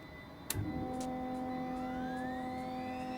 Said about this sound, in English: So now let's come up and we'll start engine 2.